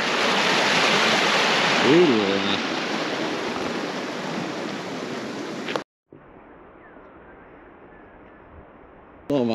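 Water flowing in a stream near a bridge makes a loud, steady broadband rush, with a brief spoken word early on. It then cuts abruptly to a much quieter, thinner background.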